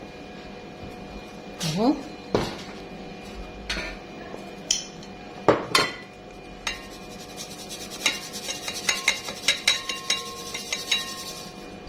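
Flour being sifted through a sieve for a cocoa cake: scattered scrapes and knocks give way to a fast run of rhythmic taps and light metallic clinks near the microphone, with someone speaking briefly.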